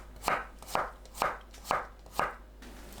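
A knife slices a halved cucumber diagonally into 0.5 cm pieces on a cutting board, six crisp, evenly spaced chops in a steady rhythm, close and clear with no talking.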